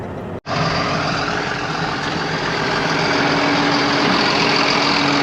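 A truck pulling a muddy planter rumbles up a gravel driveway on a farm, its engine a loud, steady drone close by after a brief dip at the start.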